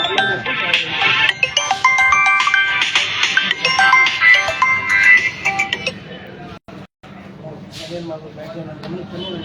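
A melodic phone ringtone chimes loudly over voices in a taluk office records room for about six seconds, then cuts off while the talking carries on.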